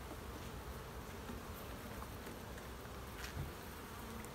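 Honey bees from a weak hive being condensed into a nuc drone in a dense, continuous buzz, close and steady throughout, with no talk over it.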